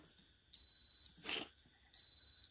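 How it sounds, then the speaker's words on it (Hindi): A multimeter on continuity test beeps while probing a transformer winding, two steady high-pitched tones close up, separated by a brief scraping rustle. "अगर ऐसे में बीप आ रहा है तो ये हमारा कनेक्शन बिल्कुल सही है"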